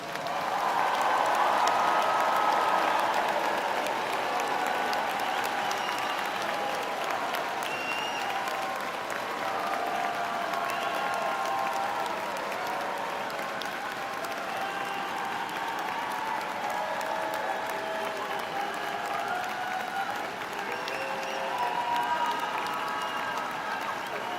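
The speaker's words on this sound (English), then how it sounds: "Let's give it one more round of applause for all the graduates." Large crowd applauds the graduates at a spring university commencement ceremony for the College of Architecture, Arts, and Design: sustained, distant-sounding clapping with scattered cheers and whoops, strongest at the start and easing slightly over about twenty seconds.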